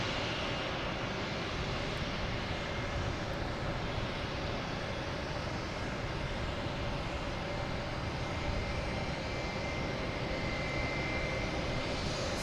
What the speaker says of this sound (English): we have American Airlines coming in from LAX, an A321, flight 12